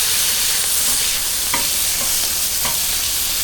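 Sausages and burgers sizzle steadily on a Blackstone griddle, a constant close hiss of frying with a couple of brief scrapes or clicks, and no voices.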